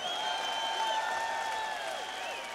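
Audience applause fills a large hall at a live blues concert in Budapest's Syma Csarnok, a steady dense wash of clapping with a sustained ringing tone, likely from the stage, running through it.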